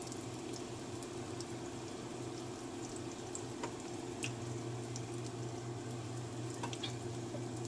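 Beef pieces fry in a pan for a low-carb beef and bok choy dish, giving a steady close sizzle with small pops and crackles throughout and no talk.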